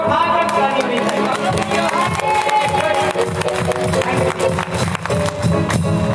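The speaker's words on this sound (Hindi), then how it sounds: "इस टेस्टमेंट के लिए जोर से हाथों को उठाकर ताली बजाइए।" A church congregation at a live Sunday service claps loudly and continuously, dense overlapping hand claps under music and voices throughout.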